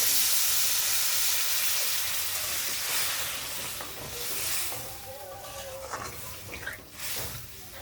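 Water poured into a pan of frying jackfruit seeds and spices, giving a loud burst of steamy hissing and sizzling that slowly settles into softer bubbling crackle.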